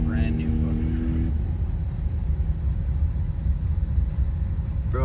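A truck engine roars steadily and loudly while doing cyclones at a truck meet, a continuous deep rumble throughout with a voice briefly heard near the start.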